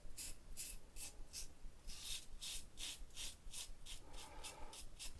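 A razor blade scrapes through stubble in a steady series of about a dozen short, crisp strokes, close and fairly loud, with no talking over it.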